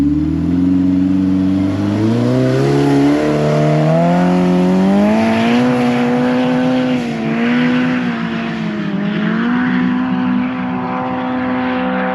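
A vehicle engine on Idaho sand dunes revs hard and holds a steady, loud drone with rising and falling pitch swells throughout, close to the microphone, with no talking.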